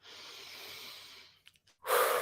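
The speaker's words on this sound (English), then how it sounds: "Take a nice deep breath." One long, deep breath drawn in and let out, close and soft, followed by a brief pause, a few small breathy catches, and then a stronger exhale.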